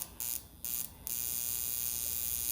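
An electric facial device buzzes against the skin in short bursts, three quick starts and stops, then a steady close high-pitched drone.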